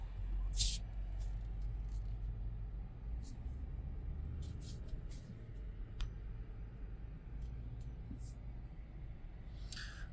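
A Toyota 200 Series Land Cruiser drives along the road, giving a steady low engine and road rumble throughout with faint hiss and a few brief higher clicks, close inside the cabin, with no talking.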